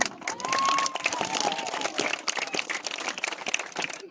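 Crowd applause at a football match prize ceremony, sustained loud clapping with some cheering from a large outdoor gathering, steady throughout.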